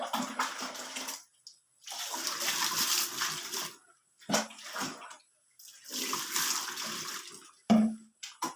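Water poured over freshly cut wood to wash it, several bursts of splashing and running water separated by short silences, fairly close.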